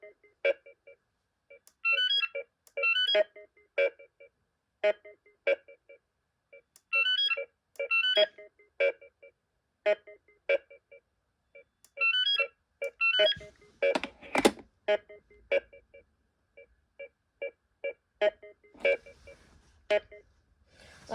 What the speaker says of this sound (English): that is a cool ringtone